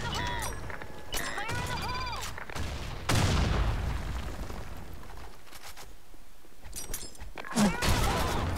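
Gunfire in the competitive shooter game Blackshot comes as repeated sharp gunshot bursts and booming reports, loud and close, with a sustained rumble in the middle stretch, while players talk and chatter over the shooting.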